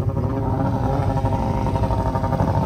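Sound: snowmobile engine running

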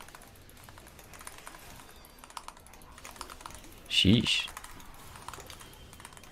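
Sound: computer keyboard typing

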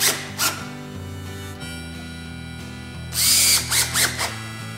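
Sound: power drill driving a screw into a puzzle jig

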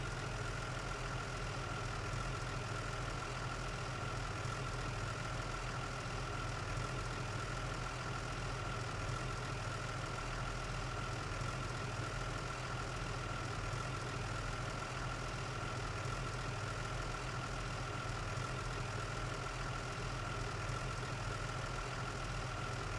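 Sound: customized fire engine running, from a video game

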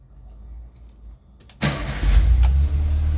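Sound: Volkswagen Kombi engine started with the key

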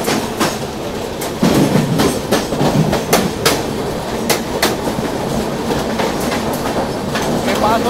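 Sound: Mandovi Express train running, general coach, Mumbai to Goa

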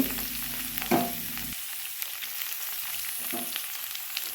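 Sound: frying cashews and raisins

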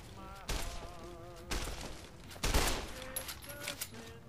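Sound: gunfire in the video game Fallout New Vegas

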